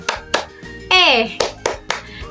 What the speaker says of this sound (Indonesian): Tapi sebelumnya kita tepuk ceria dulu yuk.